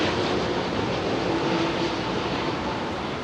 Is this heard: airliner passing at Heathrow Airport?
yes